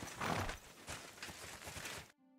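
Horse hooves clop in a quick, soft rhythm over about two seconds, fairly faint and distant, then fade into near silence.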